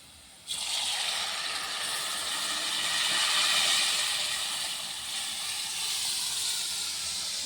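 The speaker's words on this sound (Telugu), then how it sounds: "ముందుగా చేసి పెట్టుకున్న పప్పులుసునైతే తిరగమతలు పోస్తాను" Hot tempering of onions fried red is poured into a pot of dal stew in a village kitchen, setting off a loud, steady sizzle that jumps in suddenly and keeps hissing for several seconds, swelling midway and then settling.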